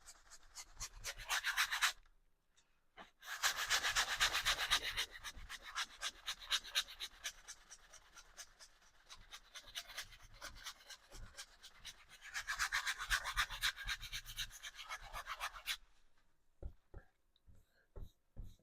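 Two-inch paintbrush scrubbing paint onto a landscape painting surface, dry bristly rubbing strokes in rapid back-and-forth bursts, close and soft, with short pauses between passes.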